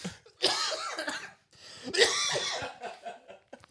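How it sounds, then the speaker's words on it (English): Two harsh, throaty coughs in quick succession, close and loud, followed by a short breathy trailing sound. "Finally, there's a cough."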